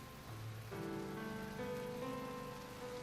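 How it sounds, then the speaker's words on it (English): Steady rain from a video game, falling and spattering continuously on surfaces at moderate volume, with low tonal background music layered underneath. "The constant seeping rainwater began to corrode the thin material that made up the bottom of our tent."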